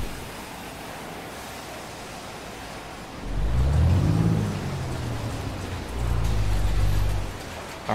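A Ford LTL 9000 truck with a 450 horsepower Detroit engine, driven in a video game, gives a low engine rumble that swells twice over steady road noise. No one talks.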